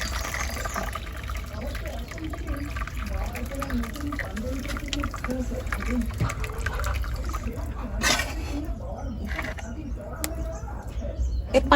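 Boiled tomatoes and their hot water are poured into a strainer for homemade tomato sauce, giving a steady trickling and splashing that runs throughout, with faint birdsong in the background.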